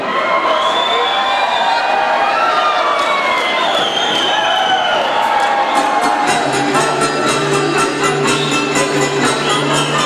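A party crowd cheers and shouts loudly and continuously, then a rhythmic clapping pattern breaks out, with whoops mixed into the dense roar of the audience.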